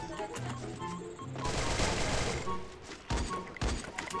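Rapid bursts of gunfire from the Free Fire video game rattle in quick succession, with a sustained volley in the middle and a couple of sharp shots near the end.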